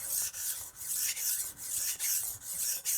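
Steady back-and-forth rasping of a Wusthof Classic chef's knife drawn across a sharpening stone, about seven even strokes with brief pauses between, close and fairly quiet with no voices.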